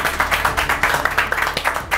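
Studio clapping for the weekly winner of a Turkish dinner-party competition show, a short burst of fairly close, uneven claps from a small group, loud and alone without speech.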